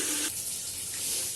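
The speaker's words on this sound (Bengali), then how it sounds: "জল দিয়ে দিচ্ছি।" Water pours into a pot of country chicken curry in a home kitchen, a short, steady splash and trickle close by with no voices.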